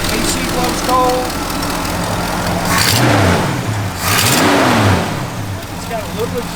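A 1972 Oldsmobile Cutlass V8 with a small exhaust leak on one side idles and then revs twice in quick blips, a mid-close engine roar over a steady idle, with someone talking in between.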